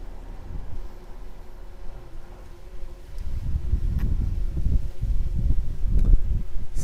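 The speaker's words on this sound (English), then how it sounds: "It's pretty decent wind right now." Strong wind blowing outdoors during a drone flight, a steady low rumble that swells into heavy gusting buffets against the microphone in the second half, with no talking.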